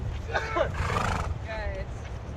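A horse whinnies in short bursts on a beach at Otres Beach, Sihanoukville, Cambodia, close and fairly loud, with breezy background noise throughout.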